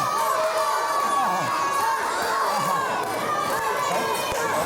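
Wrestling crowd at a live indoor show, a dense steady roar of shouting and cheering voices with higher-pitched children's yells, continuous and loud throughout, jeering a wrestler in the ring.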